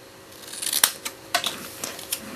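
Scissors snip through black cardstock in a series of short, crisp cuts, close and clear, with brief pauses between trims and no talking.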